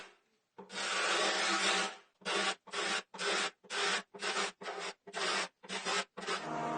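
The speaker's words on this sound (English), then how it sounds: "Now I just need to get rid of the ugly varnish that's left on the plywood." Old varnish is stripped from plywood by hand, making a long scraping rub followed by about ten short, evenly spaced rasping strokes, close and fairly loud.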